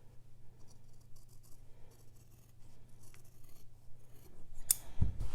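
Scissors snip away fabric seam allowance around a collar in a sewing project, a quiet rasping trim that builds to a sharper, louder cut near the end, with no talking.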